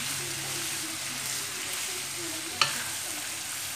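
Food frying in a hot pan over a high flame gives a steady, loud sizzle throughout, with one sharp utensil clack partway through.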